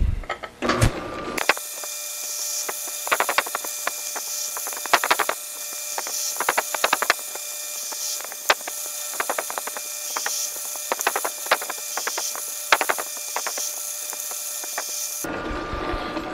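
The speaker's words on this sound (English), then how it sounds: "Now, let's cut some threads." A machine runs with a steady whine and hum in a shop while threads are cut on a nut, with scattered light clicks and ticks over the drone and short louder noises at the start and end, no talk.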